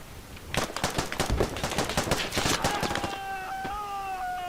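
Rapid bursts of video game gunfire crack out in loud, close volleys, then stop, leaving a sustained electronic tone.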